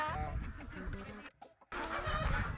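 Ducks are being caught. Close, busy quacking and clucking cries rise and fall, broken by a short lull, with faint voices in the background.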